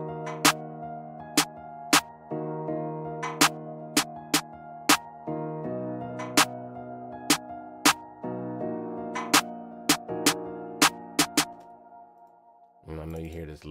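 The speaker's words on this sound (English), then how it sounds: "And I know you hear this laser as well." A piano beat made in FL Studio plays a bouncing piano pattern with sharp clap snares. Repeated high, piercing laser zaps cut through the mix in quick bursts, and a short noisy hit comes at the end.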